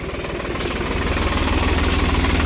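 A New Holland TD4 65 tractor engine runs nearby with a loud, steady diesel chug and a rhythmic low knocking throb, vibrating continuously throughout.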